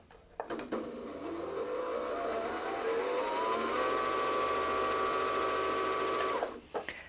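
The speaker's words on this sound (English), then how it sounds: "you can either use your foot control or the start-stop mechanism to wind your bobbin" A Janome Memory Craft 8200QCP sewing machine winding a bobbin: a steady, rising motor whine that ramps up to a constant high hum for several seconds, then cuts off with a few small clicks.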